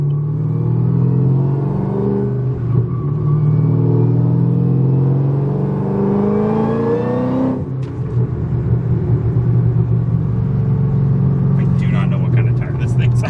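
An LSA-supercharged car with about 900 rear-wheel horsepower accelerates hard in third gear, its loud engine note rising in pitch, dropping briefly at a shift, then droning on steadily. Someone talks over it.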